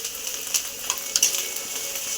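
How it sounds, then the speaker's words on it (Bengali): Onions fry with ginger-garlic paste in a pan, giving a soft, steady sizzle broken by a few sharp stirring clicks and spatters, with no talking. "দিয়ে আবার একটু ভাজা ভাজা করে নেব।"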